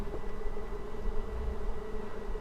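Bees nesting in an abandoned temple make a steady, low droning buzz that fills the space continuously, close and moderately loud, with no voices.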